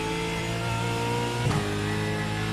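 A Gen 3 Supercar in the iRacing sim holds a loud, steady engine drone with a brief rev blip midway, close and alone without talk.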